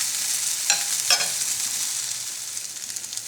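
Hot pepper heating in oil in a pot gives a steady bright sizzle throughout, with a couple of brief stirring scrapes near the start.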